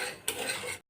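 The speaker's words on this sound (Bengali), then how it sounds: "তো সুজিটা প্রথমে ভালো করে নাড়ে চাড়ে নিই।" Semolina being stirred in a pan, a brief scraping and clinking of a utensil against the metal lasting under a second, faint and close.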